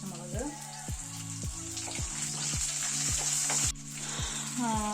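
Green chillies and garlic fry in hot oil with mustard seeds, a steady close sizzle broken by regular stirring scrapes about twice a second, with faint water sounds alongside.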